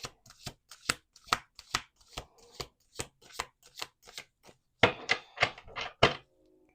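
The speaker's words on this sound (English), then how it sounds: "One last shuffle." Playing cards shuffled by hand in a room, a steady series of sharp riffling bursts followed by a denser final flurry of snaps, close and alone without any talk.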